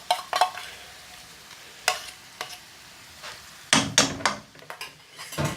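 Garlic and ginger paste stirred into soft, mushy frying onions in a pan for a Goan vindaloo: a gentle sizzle with sparse scrapes and knocks of a utensil against the pan, then a louder cluster of clattering strokes.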